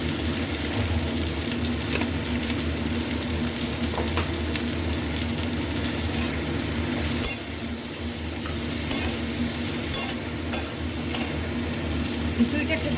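Rice and lentils fry with vegetables, salt and turmeric in a pan for khichuri, sizzling steadily under constant stirring and occasional scraping for about thirteen seconds.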